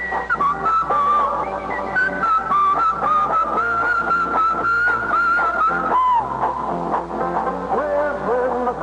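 Whistled melody in a 1967 radio jingle for Camel cigarettes, heard between baseball game broadcast segments; the tune carries steadily over a light musical backing throughout.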